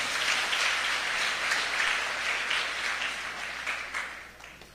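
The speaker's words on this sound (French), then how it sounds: "Applaudissez le Seigneur" Congregation applause at an annual church convention prayer service, a large crowd clapping in a continuous wash that slowly fades toward the end.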